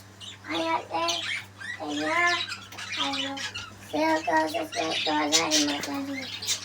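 Large parrots at a mini zoo squawk and chatter in harsh, repeated calls close by, nearly continuous, over a steady low hum.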